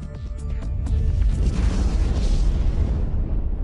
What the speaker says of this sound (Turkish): Nükleer patlama.